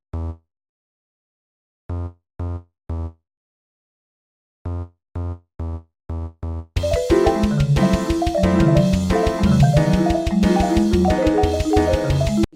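A homemade track layered in Audacity: sparse isolated bass notes in short groups, then drums and piano join in a dense, loud full mix with a steady beat, no voices.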